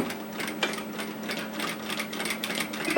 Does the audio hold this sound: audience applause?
no